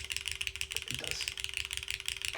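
Fast typing on a custom Matrix MY-2K mechanical keyboard with gasket mounting, a dense run of close, crisp clacks with a deeper thocky undertone, steady and rhythmic with brief uneven bursts and no voices.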